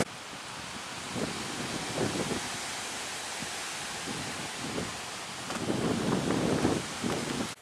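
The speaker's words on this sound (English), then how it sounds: "it's a really windy day" Strong outdoor wind buffets the microphone on a very windy day, a steady broadband roar with louder gusts swelling near the end, no voices present.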